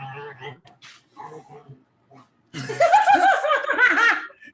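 Dogs in a back room whine and yelp in a run of rising and falling cries, loud and fairly close, following scattered quieter talk between people.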